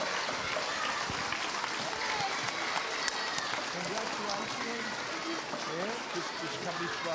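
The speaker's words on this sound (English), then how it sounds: "let's give him a huge round of applause" Applause from a school assembly of Years 4 to 6 in a gym, dense steady clapping filling the hall throughout, with voices mixed in underneath.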